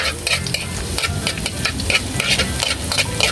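Garlic sizzling in hot cooking oil in a home kitchen pan, a steady crackling fry with stirring scrapes throughout, fairly close and loud, no talk.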